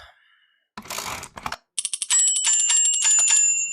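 Quick clicks of computer keyboard keys during a live gaming stream, a brief burst followed by a short cluster of sharp taps under a steady electronic tone, close and fairly loud.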